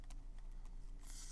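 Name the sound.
typing on a calculator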